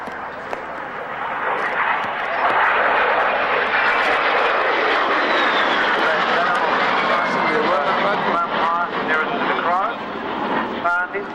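A de Havilland Vampire jet passes low at a military army airshow, a loud sustained roaring whoosh that swells and fades, with an announcer talking over it.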